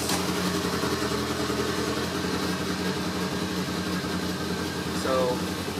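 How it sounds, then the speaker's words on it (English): A 1983 VW Rabbit GTI's 16V ABA engine with a radical cam and Holley Dominator EFI runs with a steady, loud, rough idle throughout, with a brief rising whine near the end. "I'm going to fire it up."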